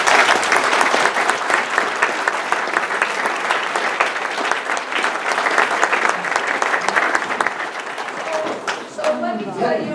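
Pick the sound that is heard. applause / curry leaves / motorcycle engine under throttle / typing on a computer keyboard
applause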